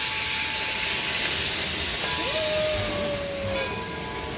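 Steam hisses steadily from a steam locomotive on the Greenfield Village Railroad, a loud broad wash of noise with a faint tonal whistle rising briefly partway through.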